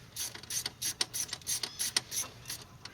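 A 1/4-inch drive ratchet works on a 1995 Ford F-250 during throttle position sensor replacement, clicking in about ten quick, even bursts of fine metallic ticks, close and fairly quiet.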